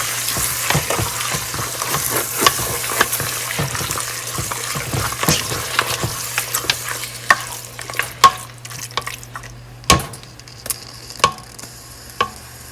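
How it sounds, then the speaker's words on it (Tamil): Lamb pieces sauté with masala in a pan for mutton biryani, a continuous close sizzle punctuated by repeated spoon scrapes and clanks against the pan, growing louder and sharper toward the end. "இதை நாங்கள் அப்படி மசாலாவோட சரியாக மிக்ஸ் பண்ணி வதங்க விடுவோம்"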